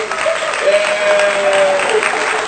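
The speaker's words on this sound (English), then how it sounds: "Clap, everybody." A small audience claps in a dense, close burst of applause lasting a couple of seconds, with a faint whistle-like tone and voices mixed in underneath.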